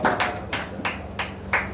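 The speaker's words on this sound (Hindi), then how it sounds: "ताली बजाओ।" Hands clapping at a church worship service, a few broadband claps spaced at irregular intervals over a low hum of crowd and room sound.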